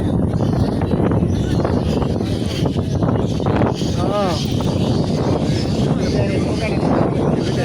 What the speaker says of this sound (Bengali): ওই যে বাতাস দেখছেন কি পরিমাণে বাতাস আছে